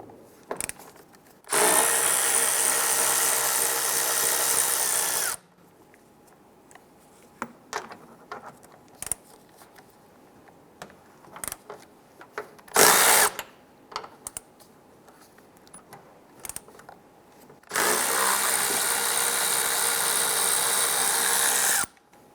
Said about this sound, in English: We're going to go ahead and loosen and remove these 3 nuts.